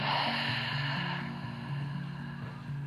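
Slow yoga breathing, a steady inhale and exhale during a morning stretching routine, soft and close under gentle background music.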